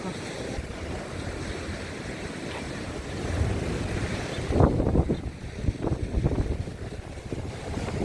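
Stormy surf pounds the Odesa shore on the Black Sea as strong wind roars across the microphone, with steady broadband rushing and a heavier wave crash breaking partway through.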